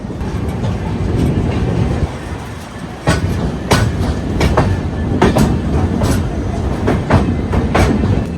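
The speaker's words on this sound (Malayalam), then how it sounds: "ഹിസാർ AC എക്സ്പ്രസിൻ്റെ 2ാമത്തെ സ്റ്റോപ്പായ ഷൊർണൂർ ജംഗ്ഷനിലേക്ക് പ്രവേശിച്ചുകൊണ്ടിരിക്കുകയാണ്." The Hisar AC Express rolls into Shoranur Junction, its wheels beating a loud, rhythmic clickety-clack over rail joints above a continuous low rumble.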